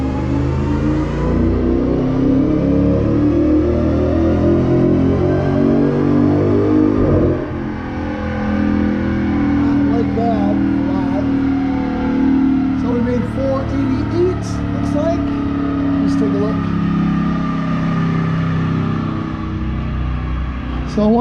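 A 2007 Jeep SRT-8 engine is revved wide open on a dyno with 12 degrees of timing and good fuel, a loud sustained roar that climbs steadily in pitch over about twenty seconds.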